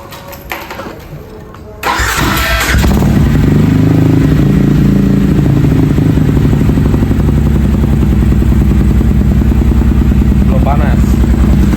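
A motorcycle in a workshop: a quiet start, then the engine catches at about two seconds and runs loud and steady, revved with a sustained low rumble and clatter right up close.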